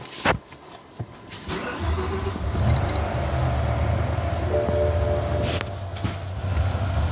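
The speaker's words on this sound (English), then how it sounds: "We're going to go ahead and start it." A BMW E60 M5 with a misfire problem being started: a short starter crank, then the engine catches and settles into a steady, low rumbling idle, with a brief chime partway through.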